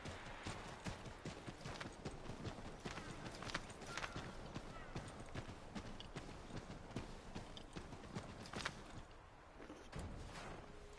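Steady hoofbeats of horses clip-clopping throughout in the video game Assassin's Creed 3, dense and continuous, with a faint background rumble.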